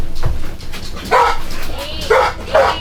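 A rescue dog barks during a search exercise, giving several short, loud bursts spaced about a second apart, with a quieter yip between them and faint background voices.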